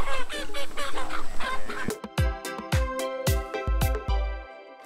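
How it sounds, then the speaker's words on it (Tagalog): Free-range chickens and roosters on a farm, a burst of busy clucking and squawks followed by a series of short, sharp calls, fairly close with no voices. "At 16 na free range chicken roosters."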